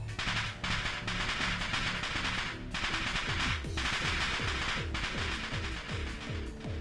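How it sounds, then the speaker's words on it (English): Rapid firecracker-like explosions crackle in quick, rattling bursts from the visual novel game Steins;Gate, heard from behind a door. Several dense volleys follow one another with short gaps between them. "The sound like firecrackers resounds from the other side of the door."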